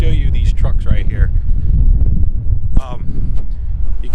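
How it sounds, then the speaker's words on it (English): Gusty wind rumbles and buffets the microphone in low, uneven bursts while a person talks over it outdoors. "it's a little windy out here."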